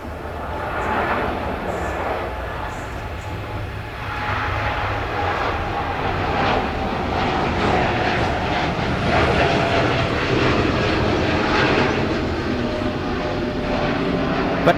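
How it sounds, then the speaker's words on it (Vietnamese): Korean Air Boeing 787-9 Dreamliner taking off from the runway at Tan Son Nhat airport, a steady loud engine roar that swells slightly and holds for about fifteen seconds, distant and continuous. "ở đường băng cất cánh chúng ta đang thấy một chiếc Boeing 7879 Dreamliner của Korean Air"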